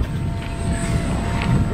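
E-Flite BAE Hawk electric ducted-fan model jet flying outdoors, a steady loud whooshing roar with a thin high whine that swells slightly, fairly close, with no talk.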